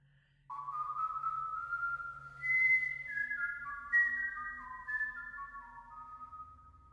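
Melodic whistling from a piece of the Under the Silver Lake film score: a lone whistled tune of sustained, gliding notes over a soft low drone, clear and fairly quiet.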